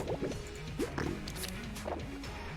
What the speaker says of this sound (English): We can clean up the mess that we make now with our water.